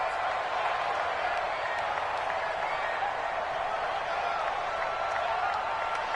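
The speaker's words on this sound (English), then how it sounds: "The crowd getting into it as we come up on a big 3rd down." Steady crowd roar from a PS4 football video game broadcast before a big third down, a dense continuous wash of stadium noise with faint applause throughout.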